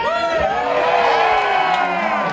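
A festival audience at an outdoor jazz event in Center City cheers and whoops, with high, overlapping shouts and hollers swelling together in a loud, lively burst.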